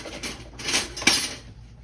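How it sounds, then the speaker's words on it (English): A metal ladle clinks and scrapes against a pot while scooping gravy from a smothered beef crown roast, several bright metallic knocks over about two seconds, close and fairly loud. "Get a ladle here."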